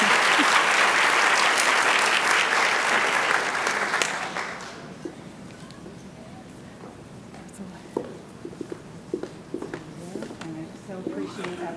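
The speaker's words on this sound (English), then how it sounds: "The recipients are, and please clap at the end so we can really hear their names, Elena Crazian and Olivia Colling." An audience at a 2024 senior scholarship recognition claps for the recipients, a loud burst of applause that dies away after about four seconds, leaving scattered small noises and a few voices.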